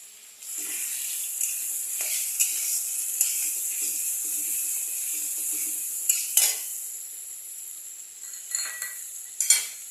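Chili and turmeric paste, mixed with water, goes into a hot pan while cooking tangra fish chorchori, giving a steady sizzle with a few sharper flare-ups and utensil clinks near the end.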